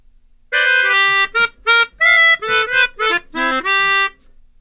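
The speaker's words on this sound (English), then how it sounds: "It's called a melodica." Melodica played in a short halting run of sustained reedy notes with gaps between phrases, loud and close with no talking.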